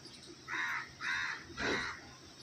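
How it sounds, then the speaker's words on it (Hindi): Birds call at six on an overcast monsoon morning with rain threatening: three harsh, caw-like bursts roughly half a second apart, fairly close and clear over a soft background hiss, with no talking. "6 बजे चिड़ियाओं की अटखेलियाँ देखने को मिल रही हैं"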